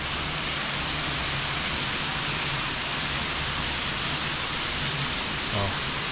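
A waterfall beside an open-air restaurant in Ubud, Bali, giving a steady, dense rushing roar that fills the whole stretch evenly, with faint voices barely audible beneath it.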